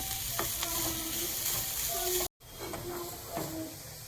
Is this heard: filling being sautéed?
yes